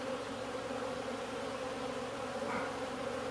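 A honeybee colony buzzes inside an opened hive in December, a dense steady hum of many bees close by, with no talking.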